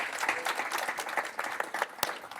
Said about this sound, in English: We're clapping for you.